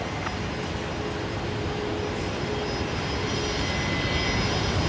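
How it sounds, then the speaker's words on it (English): A small propeller aircraft at Brisbane Airport produces a steady, unbroken engine drone at moderate distance, holding a constant level with no talk. "little prop aircraft."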